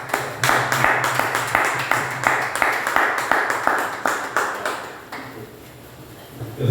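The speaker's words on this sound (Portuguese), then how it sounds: "Que você possa aplaudir o nome do Senhor Jesus." A church congregation applauds during a sermon, with steady rapid clapping from many hands for about five seconds that then thins out, joined by a low hum in the background.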